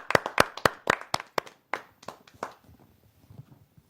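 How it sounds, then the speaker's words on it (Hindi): A small audience at a Hindi poetry gathering claps to welcome a poet, about a dozen sharp, close hand claps in an uneven rhythm that thin out and fade after a few seconds. "तो बहुत जोरदार तालियों के साथ स्वागत करते हैं"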